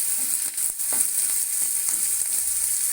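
Onions frying over a medium flame for an egg thokku, a steady close sizzle with a few faint stirring clicks, no voices.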